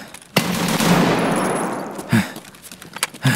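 Gunfire in a multiplayer video game shooter: a sharp shot, then a few more loud bursts spread through the clip over low game noise.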